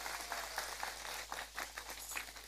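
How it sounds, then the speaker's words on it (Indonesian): Faint scattered clapping from a live audience at a comedy roasting show in Jlegon, a short thin ripple of applause with uneven claps over a low steady hum. "Tepuk tangan dulu ora masalah."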